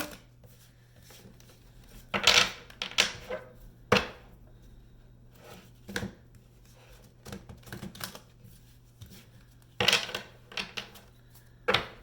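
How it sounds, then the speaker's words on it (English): Large oracle cards shuffled by hand in a quiet room, with bursts of riffling and sharp slaps and taps between short pauses, close and fairly soft. "These ones are always the hardest to shuffle because they are so big."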